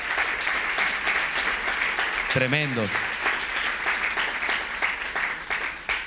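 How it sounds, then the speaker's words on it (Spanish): Church congregation applauding at a Spanish-language Advent service, a steady wash of clapping throughout with a brief voice cutting in partway. "¿Cuánto le da un aplauso fuerte al Señor por eso?"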